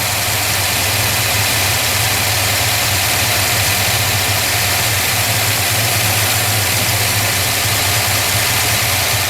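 A car engine fitted with a Holley carburetor idles steadily at base tune, a loud continuous low rumble with an even mechanical drone and no talk over it.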